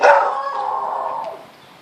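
Titus the dog gives one sustained, close, loud vocal bark-howl that trails off after about a second and a half, with no talk.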